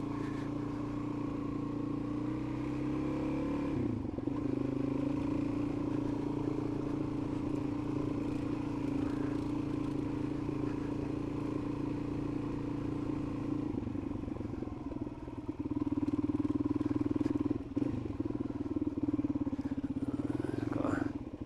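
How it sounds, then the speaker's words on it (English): Motorbikes passing on a muddy track, heard as a loud engine drone that swells and fades several times while an engine rumbles nearby and a person talks. "There's some bikes coming down the other way."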